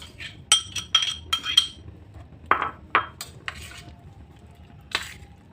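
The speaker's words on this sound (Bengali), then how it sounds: "মাছগুলো দিয়ে আমি মেখে নিচ্ছি।" Fish pieces are mixed into a cornflour and egg batter in a bowl. Sharp clinks and knocks of a utensil against the dish come in quick bursts, with softer wet stirring between them and no speech.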